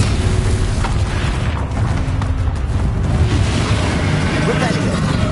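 A Bombarda explosion spell booms in the video game Hogwarts Legacy, a dense, loud blast sustained through a thick wash of game sound with no quiet gaps.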